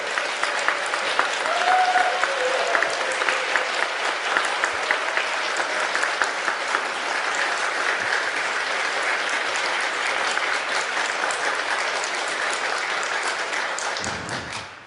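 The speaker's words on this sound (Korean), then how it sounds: "큰 박수로 환영의 뜻을 전해주십시오" Warm audience applause welcoming a guest journalist onto a stage, a sustained, loud wash of clapping from a large crowd lasting over ten seconds before fading out at the end.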